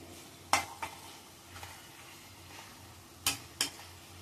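White onion sabzi with coriander cooking in a pan, a soft steady sizzle under sharp clinks of a spoon stirring against the metal, several scrapes spaced irregularly, close and quiet.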